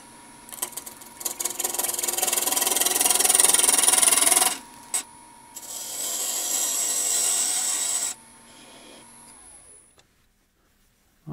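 A glued wood block is turned round on a lathe, with a loud rough scraping whir of the cutting tool in two long bursts separated by a short pause, then fading to near silence.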